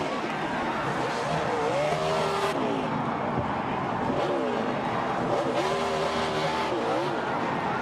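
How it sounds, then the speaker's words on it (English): Stock race cars roar around Martinsville short track in a steady, loud engine drone with pitch sweeps as cars rise and fall through the corners, while a commentator talks over the racing. "Alex Bowman coming out of 4. He's going to win at Martinsville."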